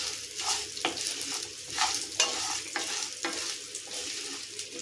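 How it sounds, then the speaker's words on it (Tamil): Onion and garlic sautéing in a pan over medium heat, a continuous close sizzle broken by regular scraping and stirring strokes of a spatula about once a second, no voices. "இப்போ இது எல்லாத்தையுமே வந்து நல்லா அடுப்பை வந்து மீடியமாக வச்சுட்டு தான் நம்ம இதை வதக்கணும்"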